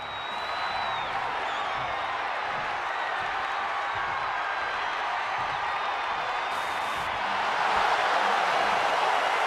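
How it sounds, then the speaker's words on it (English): Steady crowd roar and cheering from a WWE 2K26 wrestling game WrestleMania main event, a dense, continuous wash of arena noise swelling slightly louder near the end. "And the crowd goes wild."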